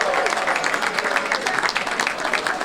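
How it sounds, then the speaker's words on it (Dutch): A carnival crowd at Blauw Sjuut 2023 in Sjpaubik applauds honorees on stage with full, sustained clapping from many people, dense and close, and a hint of voices mixed in. "Allemaal een applaus voor de eerste jubilarissen."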